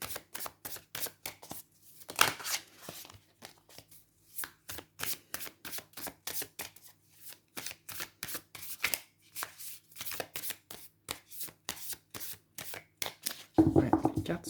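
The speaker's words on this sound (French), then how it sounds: "les cartes se mélangent assez mal, même, parce qu'elles sont hyper mates en fait" Matte tarot cards being shuffled by hand during a card reading, a long run of crisp, rapid riffling slaps in irregular bursts, close and fairly quiet, with no voice.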